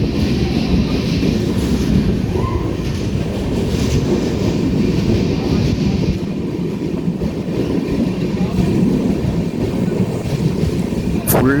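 The Netravathi Express (16346) rumbles steadily from inside a carriage as it runs through tunnels, a loud continuous roar of wheels and rail noise with faint clicking and occasional brief squeals, no voices.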